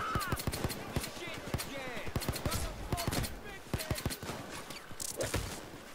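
Shotgun fire in the video game Payday 2 during a heist, a dense run of sharp, loud blasts in quick irregular bursts, layered with other gunfire and clatter.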